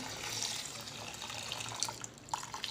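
Water pours from a tap into a bowl of rice and urad dal set to soak for dosa batter, a faint, soft trickle and splash with a few small clinks near the end.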